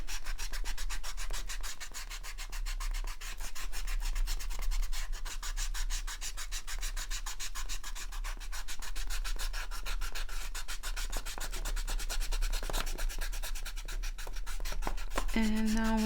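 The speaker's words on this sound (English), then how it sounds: "let's erase our pencil sketch" An eraser rubs rapidly back and forth over a pencil sketch on paper for an ink and watercolor candle drawing, a close, steady scratchy scrubbing that continues for many seconds with no speech.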